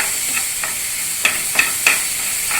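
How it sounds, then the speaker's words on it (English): Red pasta sauce with vegetables and paneer is stirred in a pan, a handful of soft scraping strokes spaced out over a continuous gentle sizzle. "Just mixing it properly with the vegetables and the paneer"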